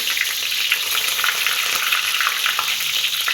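Curry onions fry in hot oil, a steady close sizzle with crackling bursts and occasional stirring, continuous for the full stretch with no talking.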